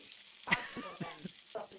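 A single sausage frying in a pan gives a soft, steady sizzle with a few brief crackling pops, faint and close.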